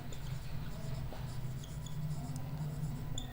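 Pen scratching on paper while an eigenvector is written out by hand in a numerical eigenvalue example, faint quick strokes and small ticks over a steady low hum, no speech heard.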